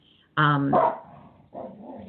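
A pet dog barks once loudly and close by in a single sustained bark, then a quieter growl-like bark follows, and no one speaks.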